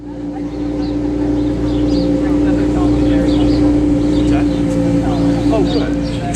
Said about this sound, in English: I hear some more cars around the corner